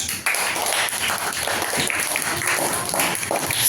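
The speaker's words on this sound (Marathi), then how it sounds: "त्या सर्व विद्यार्थ्यांसाठी सुद्धा जोरदार टाळ्या वाजवा" An audience claps for the organizing students at a school quiz competition, with loud, dense applause sustained throughout after a brief moment at the start.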